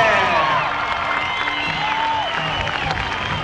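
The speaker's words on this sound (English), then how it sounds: "Ladies and gentlemen, give him a round of applause, Mr. Dan Patrick." A live crowd at a monster truck event applauds and cheers, a steady wash of clapping and scattered whoops, fairly loud and continuous throughout.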